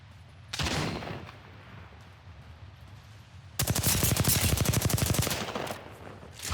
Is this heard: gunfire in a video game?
yes